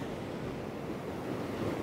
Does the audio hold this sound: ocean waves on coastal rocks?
yes